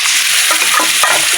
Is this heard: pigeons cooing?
no